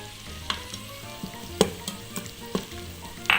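Onions sizzle steadily in hot oil in an electric pressure cooker, a soft crackling hiss punctuated by sharp pops and spatters, close up with no voices.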